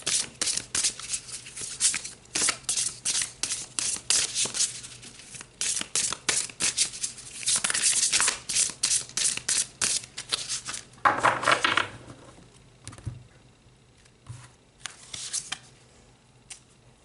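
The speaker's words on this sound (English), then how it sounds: "let's pull some more cards" Tarot cards shuffled by hand in a dense run of quick riffling, flicking snaps, close and crisp, then easing into a few scattered card slides and taps near the end.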